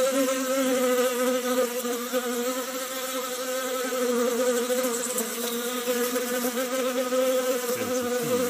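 Continuous close AI-generated buzzing of bees, a dense droning hum with layered insect whine that holds steady throughout.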